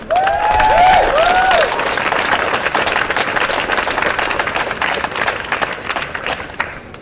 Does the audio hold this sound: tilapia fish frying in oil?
no